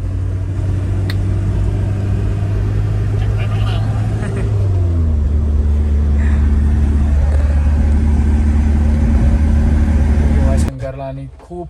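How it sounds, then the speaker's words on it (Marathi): Heavy road traffic on a rainy Sunday on the way to Bhimashankar, a loud steady rumble of car engines with a noticeable shift in engine pitch midway, cutting off abruptly near the end. "आणि खूप ट्रॅफिक आहे."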